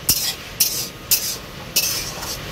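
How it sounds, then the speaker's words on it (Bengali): Egg curry masala being stirred and fried in a pan, with four sharp scraping clinks of a spoon against the metal at a steady pace over a soft, low background sizzle. "ভালো করে এবারটা কষাবো"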